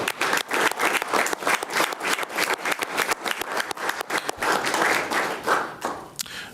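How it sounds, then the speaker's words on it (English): Applause at a city commission meeting honoring boys who helped build a Habitat home, distinct individual claps forming a lively rhythmic patter from a modest crowd, loud and close, tapering slightly near the end. "I think that deserves another round of applause"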